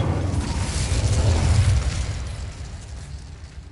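Incendio fire spell cast in Hogwarts Legacy, a loud fiery burst with a booming low roar that swells and then trails off into a fading rumble.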